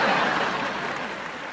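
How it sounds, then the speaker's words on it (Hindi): Audience applause for the Bengal team at a comedy event, a steady wash of clapping throughout, moderately loud and fading slightly toward the end. "बंगाल टीम के लिए जोरदार तालियां।"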